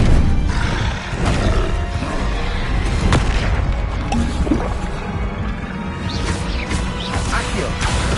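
Confringo explosion spell in a Harry Potter video game, a dense roaring blast with repeated booming crashes and thuds throughout, loud and close amid a busy game soundtrack.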